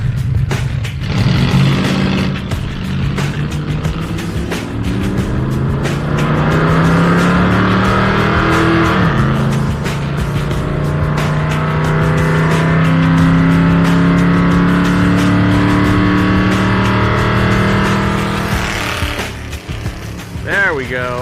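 A 1976 Dodge Dart with a 318 V8 on a drag strip run, engine roaring loudly as it climbs through the gears in rising sweeps, then easing off near the end.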